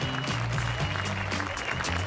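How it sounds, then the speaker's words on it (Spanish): An audience at a live event applauds volunteers, with dense clapping over a loud, sustained low musical tone. "Denle un aplauso fuerte"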